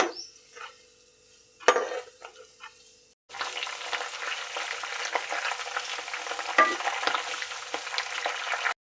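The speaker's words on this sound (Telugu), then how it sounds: "ఆయిల్లో ఇవన్నీ ఇలా ఉడికిన తర్వాత ఇలా ఇలా అయితే తయారవుతుంది ఆయిల్" Herbs fry in oil for a homemade hair oil, a steady loud sizzle that starts abruptly after a few seconds of quieter clatter and continues without talk.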